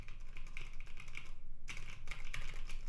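Quiet, steady typing on a computer keyboard during a live programming session, rapid clicking keystrokes with a brief pause partway through, no talking.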